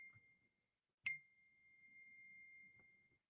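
A smartphone gives a single bright notification ding that rings on with a clean, sustained tone and slowly fades, with faint muffled background sounds.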